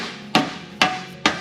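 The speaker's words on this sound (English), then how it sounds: "I am going to tack it down after I hammer it with this mallet." Three sharp, loud mallet strikes on a tire plug during a tire repair, evenly spaced about half a second apart, each with a quick decaying ring.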